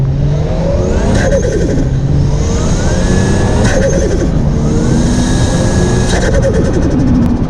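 Imported Toyota Chaser engine revving hard on the move. It climbs loudly and close in repeated pulls, with sharp shifts between them, and no speech is heard.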